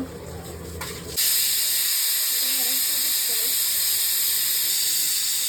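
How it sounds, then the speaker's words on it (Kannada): A pressure cooker cooking biryani lets out a loud, sustained steam whistle and hiss, starting abruptly after a second and continuing steadily, with faint talk underneath. "ಕುಕ್ಕರ್ ಮುಚ್ಚಿ 1 ವಿಸಿಲ್ ಇಲ್ಲ 2 ವಿಸಿಲ್ ಕೂಗಿಸಿ ಅಷ್ಟೇ"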